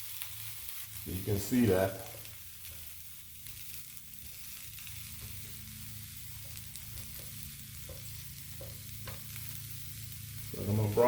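Broccoli pieces sizzle steadily on the top rack of a grill, a soft continuous frying hiss running throughout, with a brief voice speaking near the start and end.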